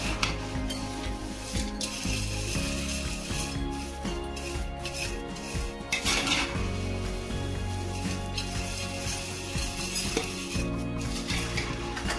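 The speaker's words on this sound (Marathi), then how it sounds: "हे जे आपण मसाले टाकले होते याला छान प्रकारे असं करून वर खाली करून घ्यायचं आणि छान याला मिक्स करायचं" Spices are stirred into poha chiwda in a metal pan, with continuous scraping and clattering of a spoon against the pan, rhythmic and close, alongside faint sizzling and no talking.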